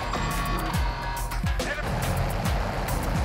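Vehicle engine rumbling steadily while driving in the Warzone video game, with short whooshing sweeps and game effects layered over the continuous drone, loud and close throughout.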